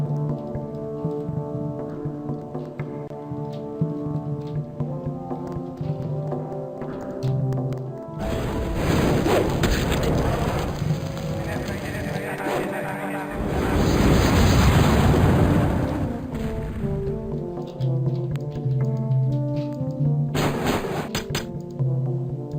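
Fire mages in the fantasy strategy game Total Annihilation: Kingdoms cast spells while on the move, loud roaring bursts and explosive swells rising over steady game music, with the heaviest blast in the middle.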